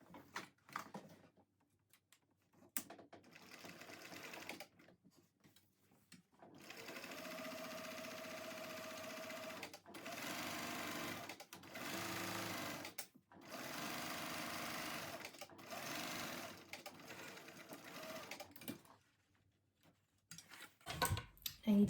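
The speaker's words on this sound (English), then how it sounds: "I'm now going to sew along the bottom with a 1/2 inch seam allowance" A sewing machine stitches the bottom seam of a tote bag, running in several close, steady bursts of whirring broken by short pauses, faint handling noises between them.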